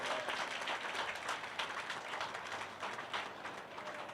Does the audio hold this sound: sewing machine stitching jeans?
no